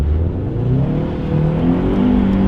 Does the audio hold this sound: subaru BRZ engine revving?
yes